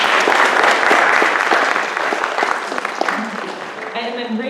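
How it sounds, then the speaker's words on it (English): Sustained applause from the audience at a spring string and orchestra showcase, dense and steady clapping that fills the room, tapering slightly near the end. "So a round of applause for Rachel, even though she's not here."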